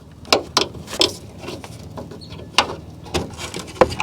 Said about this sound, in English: just get a little pry bar up underneath that clip and carefully pry that off